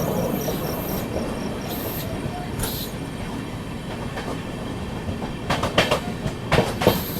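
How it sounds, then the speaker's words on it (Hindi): Aboard the Sampoorn Kranti Express near Nevra station while it overtakes the Tatanagar–Buxar Express, a steady rolling rumble carries faint hiss and whistle tones, and sharper wheel clatter grows louder toward the end. "अभी हम ओवरटेक कर रहे हैं यहाँ पे अपना दूसरा ओवरटेक टाटा नगर बक्सर एक्सप्रेस"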